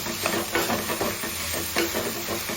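Salt and turmeric are stirred into a sizzling egg curry, a steady hiss of frying with repeated soft scraping strokes of a spoon, close and continuous, with no voice over it.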